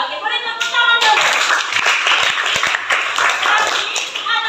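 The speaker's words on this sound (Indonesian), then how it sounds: "boleh tepuk tangan dulu" Children in a music class clap their hands, a busy patter of small hands that swells after a brief spoken line and keeps going steadily with some voices mixed in.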